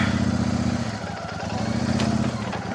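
A motorcycle engine running steadily as the bike is taken across a bridge in rural Howrah, West Bengal, a loud continuous mid-pitched drone with slight rise and fall, no talking heard.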